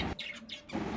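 A pair of short, bright chirps from lovebirds, close by, with a brief pause between them and a low background hum.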